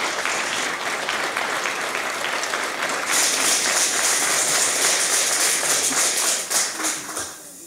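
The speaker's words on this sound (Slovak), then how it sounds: "privítajte ich v Ihľanách vrúcnym srdečným potleskom" Audience applause welcoming performers at a Christmas concert in Ihľany, a dense, loud, steady clatter of many hands clapping that swells about halfway through and then tapers off near the end.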